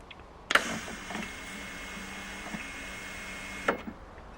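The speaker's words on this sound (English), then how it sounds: "it'll start pushing the wire out through the liner out, and keep it going until the end" A MIG welder's wire feed pushes wire through the liner with a steady, faint electric motor whir, bracketed by a clicking switch at the start and the end, alone and fairly close.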